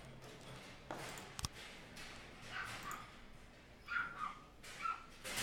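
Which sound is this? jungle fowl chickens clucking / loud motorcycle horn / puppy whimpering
puppy whimpering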